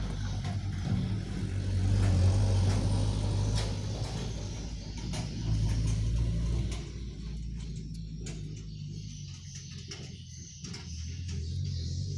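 A truck drives ahead on a dusty unpaved road in Kalimantan, its engine a steady broad rumble that swells and eases, close and continuous throughout.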